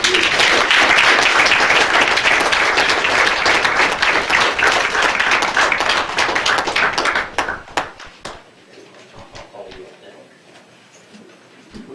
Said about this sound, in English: They deserve a great round of applause for their work